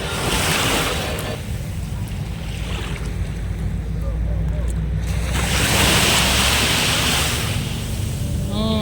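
Sea waves wash steadily onto a white-sand beach at Patong on a Thai island, a continuous loud surf roar with wind buffeting the microphone and a faint voice now and then.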